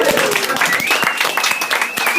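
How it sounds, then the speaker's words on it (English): A comedy-night audience at The Three Mariners pub in Lancaster applauds and cheers loudly and continuously, with a dense wash of clapping and a sustained whistle riding over it. "I like hearing people cheering"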